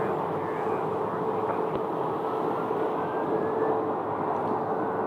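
Jet airliner being guided out at Phoenix Terminal 4, a steady broad engine roar with a constant low hum, loud and continuous from start to finish.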